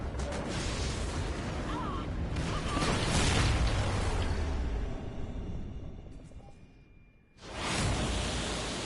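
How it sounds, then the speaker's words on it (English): A slowed-down explosion in Call of Duty: Ghosts on PS4 swells into a long, heavy roaring rumble, fades to near silence, then bursts back loud as another blast hits. "you can't have a Call of Duty game without some dangerous, gonna die explosion moment that slows down in time"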